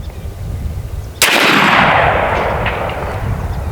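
An AEA Zeus 12 gauge air shotgun loaded with Civil War style chain shot fires one loud, sharp blast partway through. The report is close and fades into a long decay over a quiet outdoor background.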